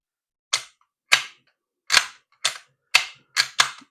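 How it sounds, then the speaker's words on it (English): A Ford C4 automatic transmission on a workbench snapping into park, seven sharp metallic clicks at irregular intervals, close and crisp against silence, with no talking. "That's it snapping into park."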